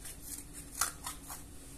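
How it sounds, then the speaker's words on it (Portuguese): Scissors snipping open a carton of cream in a home kitchen, a few faint soft cuts spaced apart, quiet and close with no talking. "Tô abrindo aqui e vou cortar."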